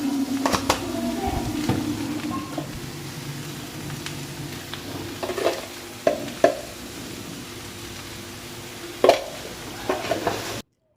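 Snake gourd (chichinga) frying with salt and turmeric is turned in a pan, with a soft steady sizzle broken by several sharper scrapes and knocks of the spatula, close by and without talk.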